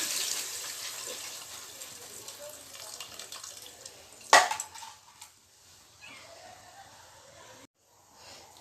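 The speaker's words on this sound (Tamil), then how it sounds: "புளி தண்ணி ஊற்றிடுங்க" Tamarind water pours and splashes into a pan for fish curry with a steady hissing rush, then a clatter of a utensil and quieter sizzling afterward.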